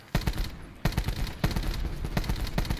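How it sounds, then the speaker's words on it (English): Rapid bursts of automatic gunfire and scattered shots in a multiplayer shooter firefight, loud and close, with short pauses between volleys and no talk over them. "They're shooting at each other now, I think."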